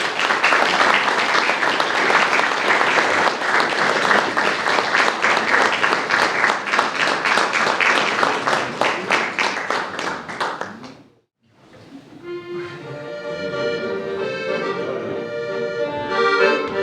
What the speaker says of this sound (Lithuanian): Tad pasitikime plojimais.